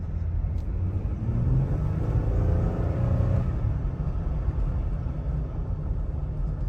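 A Jeep riding on 35-inch tires cruises along, its engine and tire rumble a steady, close, low drone with a brief rising shift tone in the middle.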